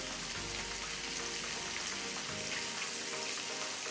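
Yellowtail fillets sear in a hot frying pan, giving a steady, dense sizzle and crackle that runs the whole time, close and loud with no talking over it.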